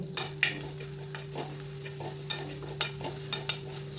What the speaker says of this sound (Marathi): तीळ छान कढईमध्ये परतून घ्यायचे त्यानंतर आपल्याला कढीपत्ता टाकून घ्यायचा आहे